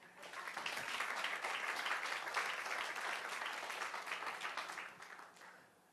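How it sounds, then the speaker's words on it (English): A conference audience at a Local2030 HLPF special event gives a round of applause after lunch, a steady mass of clapping for several seconds that thins and fades away at the end. "give us a clap"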